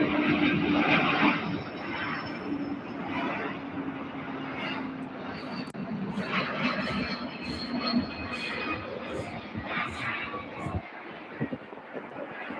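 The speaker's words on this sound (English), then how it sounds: "All right, Airbus A300 from Windsor Locks." An Airbus A300 jet lands at UPS Worldport airport. A broad, roaring engine rumble rises and falls at a distance and fades toward the end, with brief chatter from onlookers beneath it.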